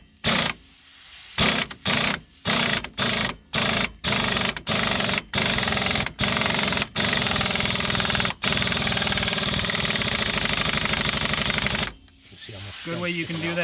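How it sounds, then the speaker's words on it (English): An impact gun hammers the axle center nut on a Pontiac Vibe or Toyota Matrix rear hub, firing in short rapid bursts that merge into one sustained loud rattling run before stopping abruptly. "Good way you can do that is with an impact gun, just like what we did."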